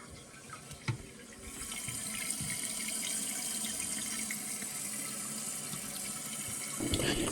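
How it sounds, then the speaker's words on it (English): Water gushes steadily into a toilet tank through a newly repaired flush valve, a continuous broadband rush that starts after a brief knock and holds loud and even to the end, with no talking. "You see the water pouring into and filling the tank, and also the rubber pipe."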